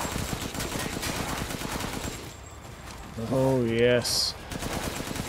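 Rapid gunfire at a shooting gallery in a video game, a fast rattling stream of shots that pauses briefly while a voice speaks, then resumes.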